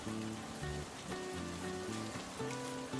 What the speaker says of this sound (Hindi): बारिश अभी भी हल्की फुल्की हो रही है।